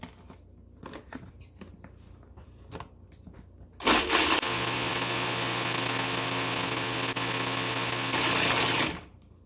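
Near the midpoint a blender starts up on roasted tomato salsa and whirs loudly and steadily for about five seconds before cutting off. Soft knocks and handling sounds come before it.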